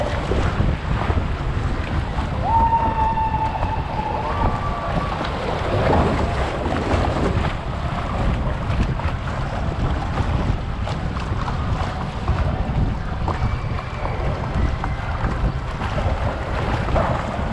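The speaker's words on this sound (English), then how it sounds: "It's an excellent day to ride a log flume." A log flume ride boat at Liseberg amusement park glides through the water, with continuous wind buffeting and water rushing around the hull, plus faint distant tones and clatter from the park.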